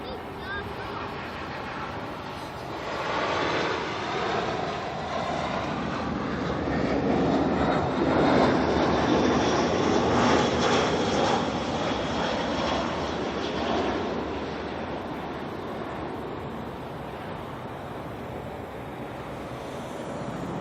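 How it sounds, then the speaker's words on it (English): A Jetstar Airbus A320 arrives at Auckland Airport from Christchurch, a broad jet roar that swells to a peak midway and then eases off. People talk over it. "we have a Jetstar A320 coming in now"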